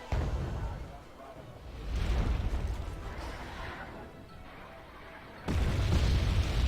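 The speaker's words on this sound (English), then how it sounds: "Artillery now landing still." Artillery shells landing in the video game Wargame: Red Dragon, heavy low booms rolling in several separate waves, the loudest arriving abruptly near the end.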